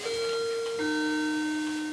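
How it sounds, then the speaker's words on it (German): A new doorbell at a front door rings a clear two-tone chime, a higher tone falling to a lower sustained one, heard alone with a soft ringing decay. "Ich glaube, es hat geklingelt an deiner Haustür. Das ist die neue Klingel."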